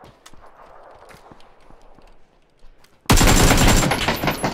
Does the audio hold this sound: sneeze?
no